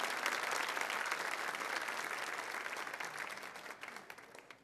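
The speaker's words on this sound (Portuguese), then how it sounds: "Vamos dar uma salva de palmas a essa palavra" An audience at a Catholic Mass applauds a sermon, a dense wash of many hands clapping steadily at moderate volume, then thinning slightly toward the end.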